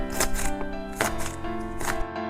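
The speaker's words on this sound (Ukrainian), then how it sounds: "І нарешті нарізаємо дрібненько цибульку." A knife finely chopping onion on a board while a tuna salad is prepared, giving a handful of crisp, irregular chopping strikes close up, with no talking.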